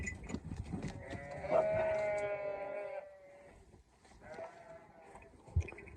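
Sheep and lambs bleat nearby on a farm in Bulgaria, a long wavering cry followed by shorter overlapping calls, with rustling livestock noise in the background.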